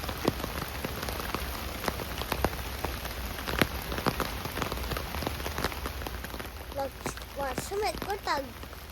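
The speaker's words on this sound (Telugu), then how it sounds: "కానీ వర్షం పడుతూనే ఉంది" Rain falls steadily on a tent at a forest campsite, a dense close patter of drops, with a voice heard briefly near the end.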